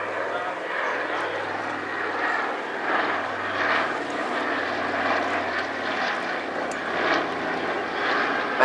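A large vintage aircraft with radial piston engines, the same type as on the DC-3 and with a 104-foot wingspan, drones past at an air festival, a steady propeller roar rising and falling under continuous commentary.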